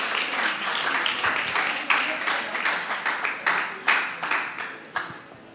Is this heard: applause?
yes